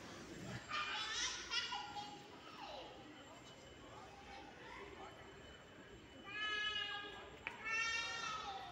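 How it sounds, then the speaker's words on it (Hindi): Children squeal and shriek outdoors on a windy Karwa Chauth night amid festival fireworks. The high, fairly distant cries rise in two bursts, early and again near the end, with a softer murmur of voices between them. "और बच्चों की किलकारियाँ भी आपको सुनाई दे रही होंगी।"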